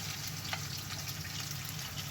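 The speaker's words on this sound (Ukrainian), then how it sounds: "Смажимо приблизно по 5 хвилин" Steady sizzling and crackling of canned-fish patties frying in a hot pan, continuous and fairly quiet throughout.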